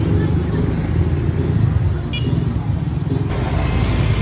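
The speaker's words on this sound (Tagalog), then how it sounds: "Ang daming sasakyan." Busy street traffic in Catbalogan City rumbles steadily with engines and passing vehicles, a dense low roar throughout, with faint voices in the mix.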